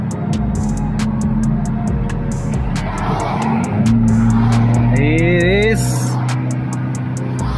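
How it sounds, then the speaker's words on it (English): Cabin of a 2017 Hyundai Tucson SUV fitted with Godspeed coilovers while driving, steady low road and engine hum with a rising engine note midway, rattles and knocks over the road surface, and voices talking over it. "this is how it sounds from inside the car"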